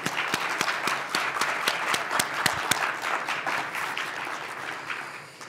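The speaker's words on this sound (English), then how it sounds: "so I guess we should just give her a round of applause" Government conference audience applauding, a dense crowd patter with several sharp, close individual claps standing out in the first half before the sound thins and fades toward the end.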